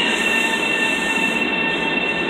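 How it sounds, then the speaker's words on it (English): A Long Island Rail Road train bound for Ronkonkoma, heard as a steady, loud rolling rumble with high-pitched wheel squeal ringing continuously above it, with no talk. "So we're going to get on this Ronkonkoma train here."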